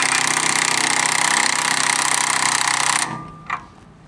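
Nylock nut being tightened on a Land Rover Defender rear shock with a power tool: a loud steady buzzing rattle for about three seconds, then it stops with a brief knock afterwards.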